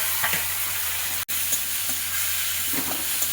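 Spice paste of onion, tomato, ginger, garlic and dried red chili fries with potatoes in a pan, a loud continuous sizzle with faint stirring scrapes and one brief break in the middle.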